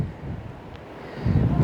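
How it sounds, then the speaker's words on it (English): Strong wind buffets the microphone outdoors at Kingsmill Reservoir in Mansfield, a steady rough roar that surges louder near the end. "Oh, windy."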